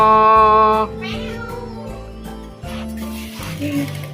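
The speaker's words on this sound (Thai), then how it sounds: "แมว" A cat meows repeatedly at close range, with several drawn-out, wavering cries in a row over faint background noise.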